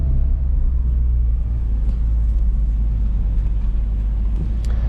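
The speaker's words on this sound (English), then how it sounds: "off the clutch, a little bit of throttle, we're moving, foot off the clutch completely, just on the gas now" Manual-transmission car pulling away in first gear, a steady low engine drone and road rumble that holds loud and even throughout with no talking.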